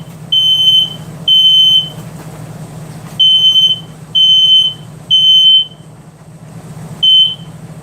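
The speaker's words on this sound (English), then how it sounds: "that's my smoke detector again" A kitchen smoke detector beeps while a stove burner heats the wrong pot. It gives six loud, shrill beeps of about half a second each in an uneven rhythm over a low steady hum.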